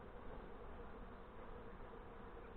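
Honey bees buzz densely and steadily around a newly installed nuc hive in northern Michigan, a close, continuous swarm drone with no pauses.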